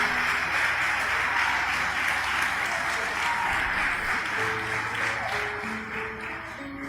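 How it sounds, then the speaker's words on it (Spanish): A church congregation applauds during a sermon, a loud, continuous wash of clapping with a few voices and a sustained musical tone rising beneath it toward the end. "Dale un aplauso al Rey de Reyes y Señor de Señores"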